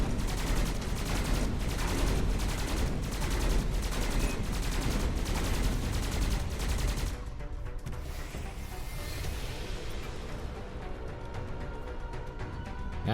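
Rapid automatic gunfire from the player's weapon in the game Skyforge rattles in dense, loud bursts for about seven seconds, then continues as a thinner, quieter stream of shots.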